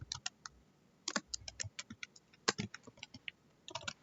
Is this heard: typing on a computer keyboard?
yes